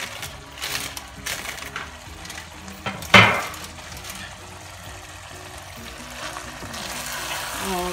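Grilled bitter gourd and sliced onions drop into hot oil, setting off a sharp loud sizzle and clatter about halfway through, then a softer steady frying hiss, with no one speaking.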